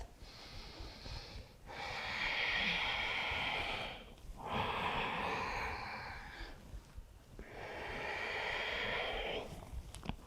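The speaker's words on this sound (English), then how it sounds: "Twice more on your own with the sound of your breath." Slow, deep yoga breaths during spinal rounds, heard close and alone: three long audible breaths with brief pauses between them, each a steady airy rush with a slightly nasal, snort-like edge.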